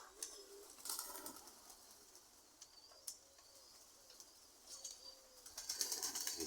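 Young pigeons cooing and flying on a windy summer evening outdoors, soft coos recurring at intervals with occasional wing flaps and faint chirps, fairly distant and quiet over light wind.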